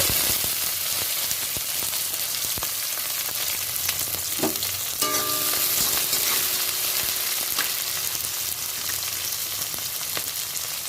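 Beans and vegetables frying with ginger in a pan for vegetable dal, a continuous loud hiss of sizzling oil with occasional light clinks and scrapes.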